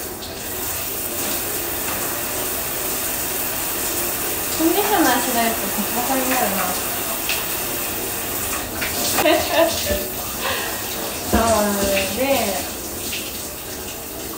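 Steady running water from a hand shower at a Japanese expressway rest-area shower room fills the background throughout, with a person talking over it in short phrases.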